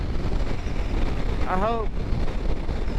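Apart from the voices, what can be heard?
wind noise while riding Honda CBR motorcycle at night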